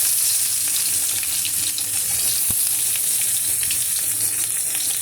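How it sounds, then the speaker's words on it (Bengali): Panch phoron spices and a small onion sizzle in hot oil in a wok, a steady close crackling fry running continuously with no talk, one brief low knock midway. "আমি কড়াইতে দিয়ে দিয়েছি পাঁচফোড়ন, ছোটো একটা পেঁয়াজ।"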